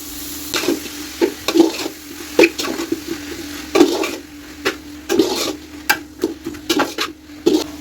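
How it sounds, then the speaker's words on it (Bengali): Mixed vegetables for Thai-style fried rice fry in a pan with a steady sizzle, punctuated by repeated close scrapes and knocks of a spatula stirring at an uneven rhythm. "এখন আমার এই ভেজিটেবলগুলো হালকা আমি একটু ভেজে নিয়েছি"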